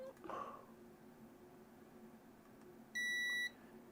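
A multimeter set to diode mode gives one short, clear, high beep lasting about half a second amid quiet room noise while checking a Switch OLED mod.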